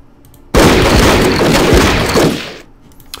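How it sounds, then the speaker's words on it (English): Tanks firing in the wargame Battle Academy 2, a single sudden loud boom that rolls into a dense crackling burst for about two seconds before fading out. "let's go ahead and open fire here at the SDKVZ"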